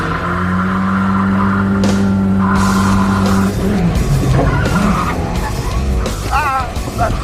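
A 1964 Ford Galaxie 500 XL reverses hard into a Rockford turn, its engine droning steadily before the tires squeal and skid loudly up close as the car swings around.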